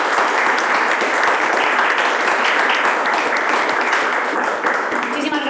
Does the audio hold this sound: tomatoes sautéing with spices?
no